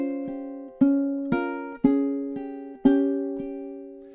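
A ukulele plays measure 14 of Deck the Halls as single plucked notes, about one every half second. Each note rings clearly and fades before the next, with no voice.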